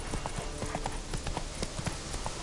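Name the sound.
hooves of Geralt's horse Roach galloping, from video game The Witcher 3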